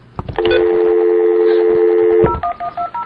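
Telephone dialing tones ring out loud and close while calling a number that turns out busy: one long steady tone, then a few short clipped beeps, with no voices.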